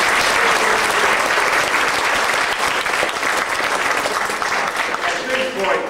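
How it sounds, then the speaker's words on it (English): A theatre audience applauds the cast and crew of a show with loud, dense, sustained clapping that fills the whole stretch and fades only slightly near the end. "the cast and crew deserve a big round of your applause"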